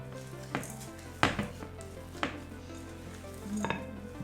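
Low-carb, gluten-free chocolate chip cookie dough being stirred in a bowl, with a few distinct scrapes and knocks of the spoon against the bowl over a steady low hum, fairly close and with no talking.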